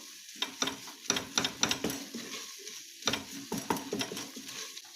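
A spoon scrapes and stirs flour and tomato paste in a pot with a soft sizzle underneath, in irregular strokes and taps close by.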